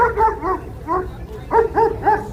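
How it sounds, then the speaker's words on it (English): Toronto Police dog barking outdoors near the SkyDome on the city's southwest side, a run of several sharp, fairly close barks in uneven bursts over steady street noise. "There's a police dog, guys."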